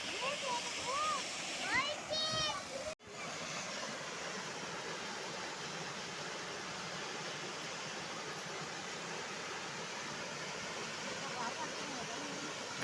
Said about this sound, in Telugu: మంచి జలపాతం లొకేషన్